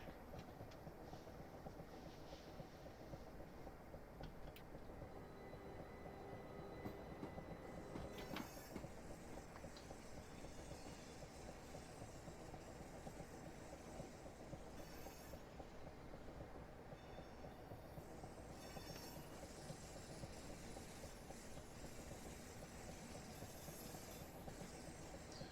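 A three-car train approaches Strood station with a steady low rumble and rhythmic wheel clatter, faint hiss and light squeal, heard from inside at a quiet level with no talking.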